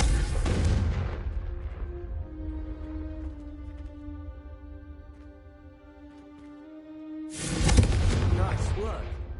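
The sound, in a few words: Confringo spell blasting candelabras in Hogwarts Legacy video game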